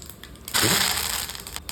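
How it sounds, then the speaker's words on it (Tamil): Mustard seeds hit hot sesame oil in a kadai with a sudden crackling hiss, a burst of popping sizzle that swells after a faint lead-in and stays close and fairly quiet. "நான் கடாயில் நல்லெண்ணெய் விட்டுக்கிறேன். இப்போ கடுகு கொஞ்சம் சேர்த்துக்கலாம்."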